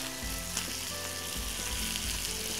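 A steak sears in a preheated pan, giving a loud, steady sizzle and crackle throughout with a few faint scraping stirs; no one speaks.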